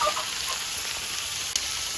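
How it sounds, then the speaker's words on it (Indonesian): Chilies crackle in hot oil in a pan, a steady, close, bright hiss with faint pops throughout. "Saiki lomboknya digoreng dulu."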